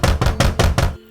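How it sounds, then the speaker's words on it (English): Five firm knocks rap on a hall door in an even, quick rhythm, close and loud, then stop abruptly. "rapped at the door of the hall"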